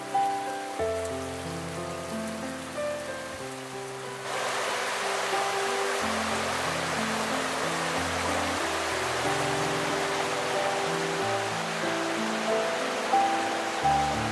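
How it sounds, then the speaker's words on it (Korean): Valley stream water at Okryucheon runs in a steady, broadband rush, close and continuous, with a fuller wash after the first few seconds over low tonal music. "지친 일상을 재충전하는 옥류천 계곡 물소리입니다."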